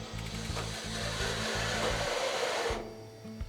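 On a John Deere W260R swather, the forming shields are adjusted by button: a hydraulic actuator whines steadily under a pulsing low machine drone, then cuts out near the end.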